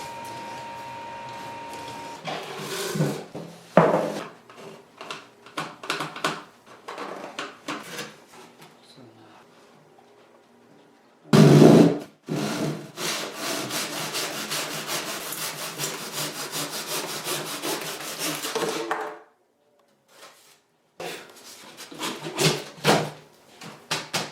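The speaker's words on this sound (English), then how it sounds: "I just need to trim down these faux stone panels" Power saw cutting through faux stone panels in several bursts, with a loud sustained cut in the middle and shorter cuts before and after, separated by brief pauses and handling noise.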